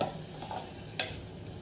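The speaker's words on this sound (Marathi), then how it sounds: "हे पहा, अशा पद्धतीने छान आपण तुपावरती भात परतून घेणार आहोत" Rice sautéed in ghee in a pan makes a soft, steady sizzle with one short scrape of the spoon near the middle, brief and close; no voices.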